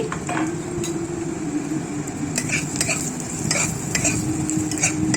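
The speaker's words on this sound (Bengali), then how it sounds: "কাঁচা বাদাম তো সেটাকেই আমি একটু ভেজে নিচ্ছি" Crushed raw peanuts frying in a pan, a steady sizzle under repeated scraping and clinking strokes of a spoon stirring against the metal, close and continuous.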